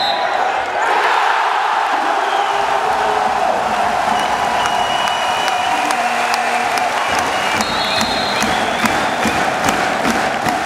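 Basketball arena crowd erupting in ecstatic cheering and applause during a Chemnitz Niners home game against Bayern, a loud, sustained roar filling the hall with ball bounces and whistles poking through.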